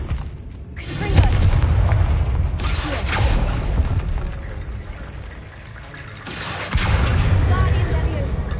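Confringo spell blasts in Hogwarts Legacy, heavy booming impacts with rumbling, splashing tails, a couple of strong bursts separated by quieter ambient stretches.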